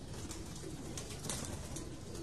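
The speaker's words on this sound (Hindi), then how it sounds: "ये भी एक और टेढ़ी कबूतरी आ गई," Pigeons coo softly on a rooftop, a faint murmur under a steady outdoor background noise, with no talking.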